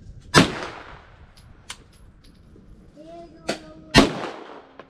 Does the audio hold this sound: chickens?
no